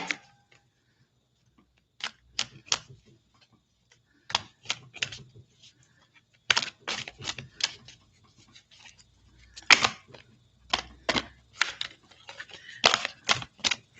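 Playing cards shuffled by hand in a tarot-style card reading, as a series of sharp, papery riffling bursts and clicks in irregular clusters, close up and fairly quiet, with pauses between them.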